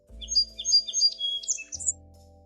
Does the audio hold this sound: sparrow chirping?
yes